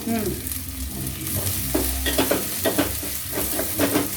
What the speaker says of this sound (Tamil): இப்போ வந்து கருவேப்பிலை கருவேப்பிலை போடுறோம்